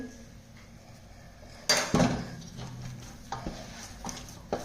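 Methi vadi batter of fenugreek leaves, rice flour and oil is mixed in a bowl, quiet scraping at first, then louder wet stirring knocks and clatters against the vessel in uneven bursts.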